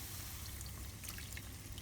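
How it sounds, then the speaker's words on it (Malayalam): A cup of water is poured into paneer masala in a pan, making a quiet, continuous trickle and splash that runs steadily for under two seconds with no speech. "ഇനി അടുത്ത ഇതിലേക്ക് 1 കപ്പ് വെള്ളം ഒഴിക്കണം"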